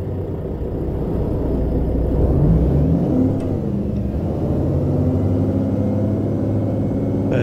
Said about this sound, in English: Let's start her up, go for a quick drive around this car park